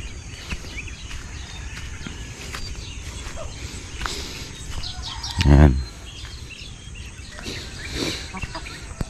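Farm chickens fed a morning mix of corn and pellets cluck and rustle outdoors, soft scattered clucks over a steady ambient bed, with one louder brief call midway.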